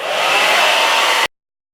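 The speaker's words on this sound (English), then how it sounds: "So now take the blow dryer." A blow dryer on high power, medium heat, roars steadily up close while drying and straightening natural hair, then cuts off abruptly after about a second and a quarter.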